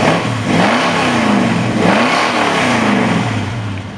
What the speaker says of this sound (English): Motor on this thing just sounds incredible.